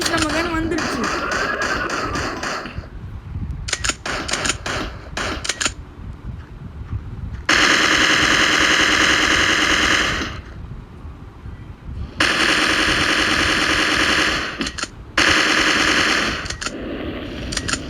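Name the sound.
machine gun fire in the video game Mini Militia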